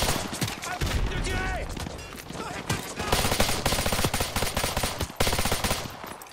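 Rapid machine-gun fire aimed at the player in Call of Duty Modern Warfare 2 comes in loud, dense bursts of shots with short gaps, over game sound and occasional voices.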